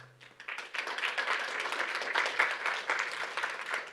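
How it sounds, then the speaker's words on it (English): Steady applause from a conference audience at a museum event on culture and borders, dense rapid clapping that swells quickly and holds for several seconds with no talking. "The audience is applauding you."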